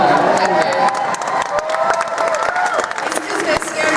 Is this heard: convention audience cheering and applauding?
yes